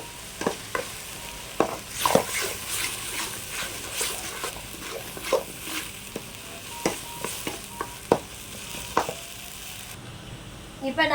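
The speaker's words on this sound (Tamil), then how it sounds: "நல்லா வதக்கி விட்டுருங்க, பச்சை வாசம் போகிற அளவுக்கு நல்லா வதக்கி விட்டுருங்க." Chopped tomatoes sauté in a pan for a chicken liver gravy, giving a soft steady sizzle broken by frequent scraping clicks of a spoon stirring, fairly quiet and close with no talking.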